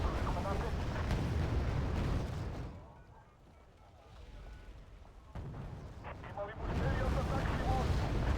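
A napalm MLRS rocket barrage in a video game sets off a long, rumbling wave of explosions. The roar dips briefly and then swells back to full strength, with a person talking over it.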